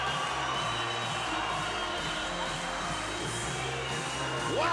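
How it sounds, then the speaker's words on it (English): A fight crowd at a Kishido Eagles event roars for Denis Palancica's stoppage win over Kenan Jafarli, a broad sustained cheer with whoops under a commentator's voice. "this crowd has come absolutely unglued here at Kishido"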